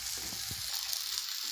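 Steady, close sizzling of water hitting hot oil and spice paste in a pan of egg bhurji masala, a continuous bright hiss with a few low stirring knocks early on, no talk.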